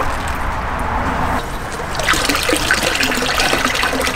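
Water pours steadily from two pipes into a small garden pond, a continuous close splashing trickle that grows brighter and fuller partway through, with no voices.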